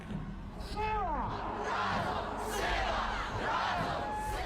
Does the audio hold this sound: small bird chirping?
no